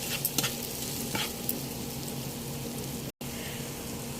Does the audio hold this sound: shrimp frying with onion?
yes